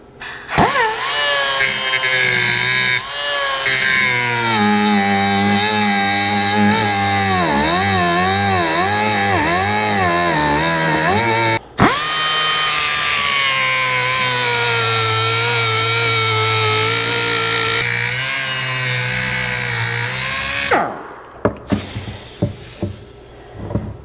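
A power tool cuts a section out of a Harley-Davidson aluminum cylinder head. It makes a loud, sustained whine that wavers in pitch as it bites into the metal, briefly stops near the midpoint, then resumes and ends with a few clunks.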